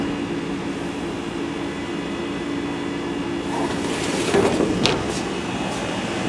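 Haas VF0 vertical machining center idling before warm-up, a steady mechanical hum with faint whine and a few brief clicks and rattles near the end, heard close with no talk.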